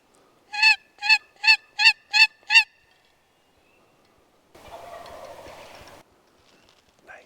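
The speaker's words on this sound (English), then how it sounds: "just got a gobble in the forest right here" A wild turkey gobbles six times in a quick, loud, evenly spaced burst in a forest on Ontario Crown land during spring scouting. A soft rustling noise follows a couple of seconds later.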